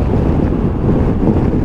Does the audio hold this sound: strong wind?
yes